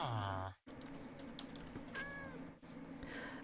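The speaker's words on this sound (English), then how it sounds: "A cat!" A cat in a video game gives a clear meow at the start, then a second rising meow follows while keyboard typing clatters and a person talks quietly in the background.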